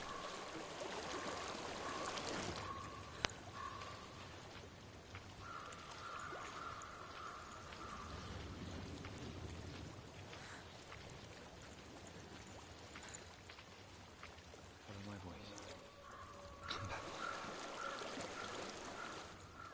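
Flowing water in the video game Hellblade: Senua's Sacrifice, a steady pouring stream with trickling detail that continues throughout without speech.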